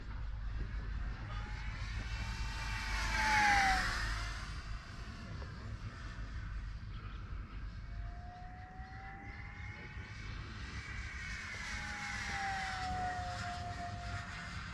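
An FMS P-51D Mustang RC plane, 1100mm on 4S power, flies at full throttle into the wind, its electric motor making a high, steady whine that swells as it passes close, then fades and rises again with Doppler shifts.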